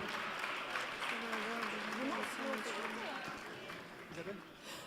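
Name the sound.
audience applause approving charter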